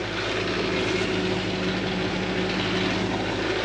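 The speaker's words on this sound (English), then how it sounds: "We'll see if we can drag it out with the tractor." A tractor engine drones steadily and loudly while dragging a big sawmill log that is digging into the ground, a constant low rumble with no pauses.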